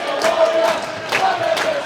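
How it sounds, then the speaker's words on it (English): Ice hockey arena crowd applauding steadily for a former player's shirt number, a continuous wash of clapping with swelling bursts, fairly loud and close, no talk over it. "a minute's applause for Martin Crammond in the 18th minute for his shirt number"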